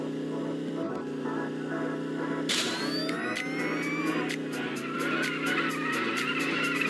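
Tyre squeal and engine drone of a car drifting and braking in the video game Car Simulator, a steady engine hum under a long, rising skid screech that stretches over the second half.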